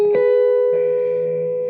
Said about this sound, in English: this is the tone of my Super Keeley without any effects on